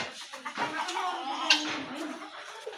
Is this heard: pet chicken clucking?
yes